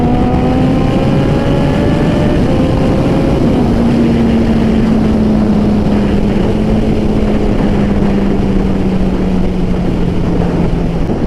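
Kawasaki ZX14R sport motorcycle at full throttle, a loud continuous engine roar whose pitch climbs and then holds steady amid heavy wind rush, with no voices.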